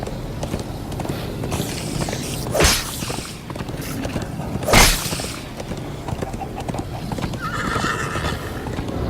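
A horse in Minecraft Story Mode neighs loudly amid steady hoofbeats at a gallop, with whooshing motion sounds and a second whinny a couple of seconds later.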